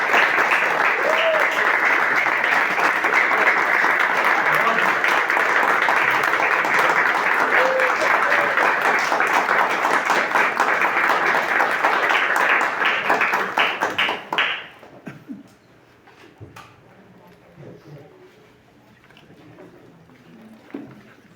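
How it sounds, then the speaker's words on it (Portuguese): Church congregation applauding during a worship service in Brasília, sustained dense clapping for about fourteen seconds before it fades quickly into a quiet room with faint sounds. "Eu acho que eles merecem uma salva de palmas"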